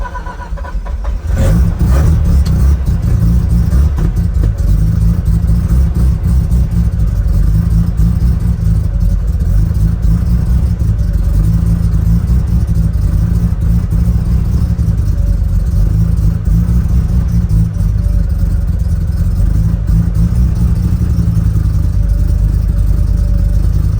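A rotary-engined car fires up and settles into a loud, close, steady idle with a rough, buzzy drone and occasional slight surges, continuing unbroken for about twenty seconds without talking.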